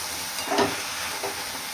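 Potato sabzi sizzles in oil over a high flame, a steady close frying hiss with a couple of soft stirring scrapes, no talk.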